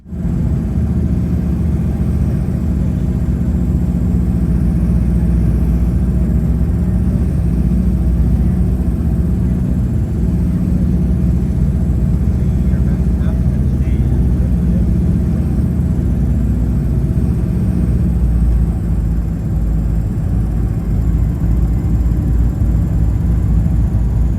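A Douglas DC-3 propeller airliner lands on runway 8 at Tulsa International Airport, with a loud, steady engine drone and rumble heard from inside the cabin throughout.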